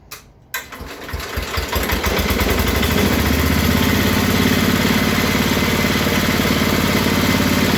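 Bolens 1050 garden tractor engine catching on its first start, then settling into a steady, loud, continuous idle with an even rhythmic chug, close by and with no talking.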